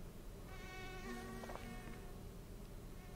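Mosquitoes buzzing in the video game My Summer Car, a thin steady whine that holds for a couple of seconds over a constant background hum, with no talking.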